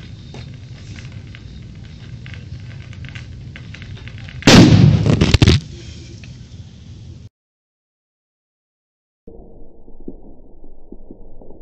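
A basketball blown up with explosives in a suburban cul-de-sac produces a single sharp, loud blast lasting about a second, set against constant outdoor noise, followed by a sudden silence and then quieter ambient sound.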